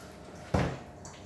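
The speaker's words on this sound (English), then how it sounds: "I put my broccoli in the water to soak it" Broccoli dropped into a bowl of water to soak, giving a single short splash and slosh that fades quickly in a quiet kitchen.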